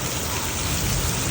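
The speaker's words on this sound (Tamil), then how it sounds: "காற்றுடன் கூடிய மழை." Heavy rain driven by strong wind pours down on a road, a dense, loud, unbroken hiss and roar with a rumbling low end throughout, no voices.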